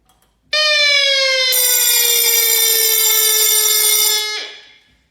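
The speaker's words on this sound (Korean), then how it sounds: "발신기를 누르게 되면 사이렌과 경종이 울리게 되고" A fire alarm system's loud, steady electronic siren wails continuously for several seconds, activated by a manual call point, joined partway by a ringing alarm bell, then cuts off and fades.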